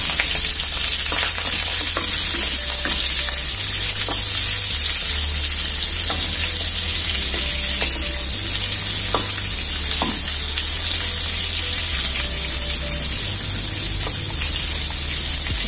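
Sliced onions fry in a hot pan for mushroom masala curry, giving a loud, dense, continuous sizzle with stirring scrapes throughout, close up and without speech, while a low steady hum from a stove or fan runs underneath.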